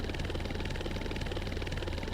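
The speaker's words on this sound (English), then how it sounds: "And he hops in a helicopter and leaves." A helicopter departs in Final Fantasy VII, heard as a steady rotor-and-engine drone with a pulsing low thrum that stays even and continuous throughout.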